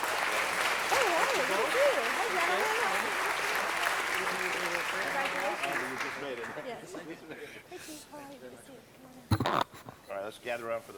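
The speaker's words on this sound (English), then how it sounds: "So let's give them a great round of applause" City council meeting audience applauds the fire department, steady clapping for about six seconds that tapers off, followed by murmuring voices and a sharp knock near the end.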